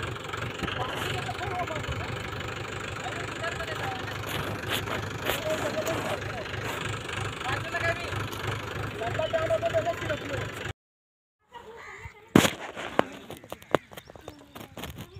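A heavy tractor engine chugs steadily with a low rhythmic throb under people talking in a rice paddy field, then drops out briefly before scattered clatter and voices return.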